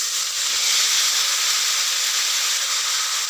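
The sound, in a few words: eggplant frying in a pan with turmeric and salt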